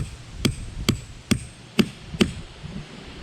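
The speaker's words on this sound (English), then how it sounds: "take a nice big ball peen hammer" A big ball peen hammer strikes a 1/4 inch punch lined up on a hole, as part of building an RV rock guard for a tow vehicle. Five sharp metallic blows land at an even pace, close and distinct, with quiet between them.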